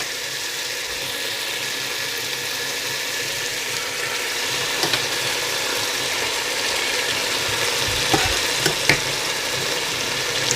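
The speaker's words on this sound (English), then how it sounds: "I'm going to go in and I'm going to layer the masala in first of all." Masala spooned and layered into a warm pot on a low hob for restaurant-style chicken biryani, giving a steady soft sizzle with light scraping and a few sharp utensil clicks near the end, no talking.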